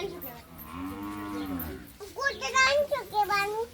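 A voice imitates a cow with a long, drawn-out moo, followed by a few quick bits of childish talk.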